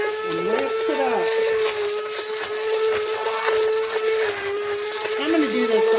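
A hand blender whirs steadily through a pot of apple sauce, a continuous motor whine holding at an even pitch, with a few faint voices in the background.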